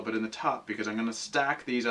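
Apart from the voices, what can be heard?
No distinct noise like a dog, phone or traffic.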